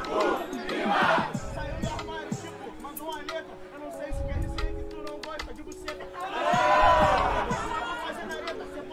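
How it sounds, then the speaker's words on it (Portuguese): A rap battle crowd erupts in loud jeering, with a dense wall of shouting voices swelling at the start, dipping under steady chatter, then surging again near the end. "os caras vaiaram o Breno"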